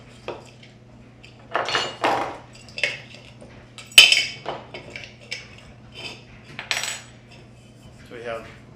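Metal pots and bowls from an Optimus camping cook set clink and clatter as they are handled and nested, in a string of light, close metallic knocks and scrapes over a faint steady hum.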